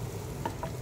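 Food being stirred in a frying pan, a soft scraping stir with a couple of brief clinks over a steady sizzling hiss, close and short with no talk.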